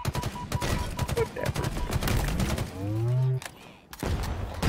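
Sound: gunfire from video game Halo Infinite

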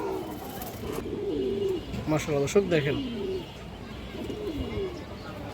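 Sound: Indian chini kaldam pigeons cooing

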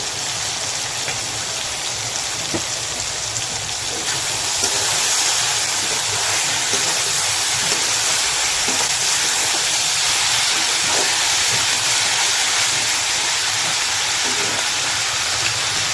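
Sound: frying dried kachki fish with tomato and salt in a pan

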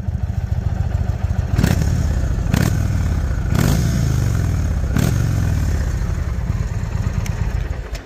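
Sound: Indian Springfield Dark Horse motorcycle exhaust running

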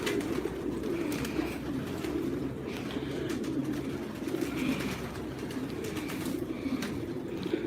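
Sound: pigeons cooing

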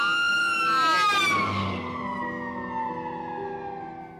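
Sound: ambulance siren passing, Doppler shift

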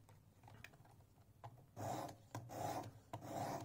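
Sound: knife blade on a Work Sharp Precision Adjust sharpener

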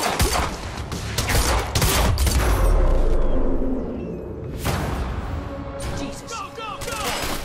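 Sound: gunfire in a video game

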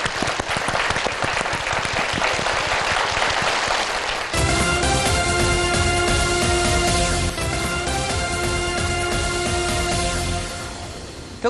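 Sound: studio audience applause

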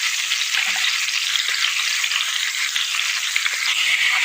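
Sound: garlic and onion frying until brown

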